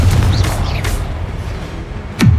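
Hogwarts Legacy's Confringo blasting spell, heard as heavy booming blasts with a deep low thump, loud and close, the last strike landing sharply near the end.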